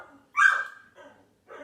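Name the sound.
dogs barking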